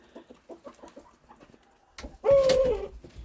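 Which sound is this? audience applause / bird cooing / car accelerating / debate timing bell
bird cooing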